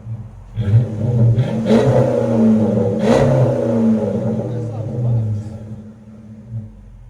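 A 2005 Dodge Magnum R/T with a 5.7L Hemi V8 and Flowmaster Super 10 exhausts revs loudly up close, with deep, steady rumbling and a couple of sharp throttle blips over several seconds.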